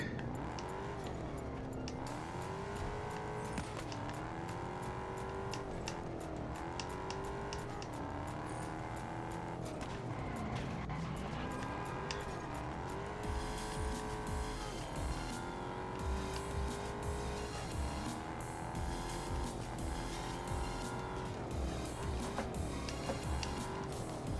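In the racing game Test Drive Unlimited Solar Crown, a small car's engine revs and races continuously. The pitch sweeps up and down through gear changes, with tire squeal and other cars passing, and no talk.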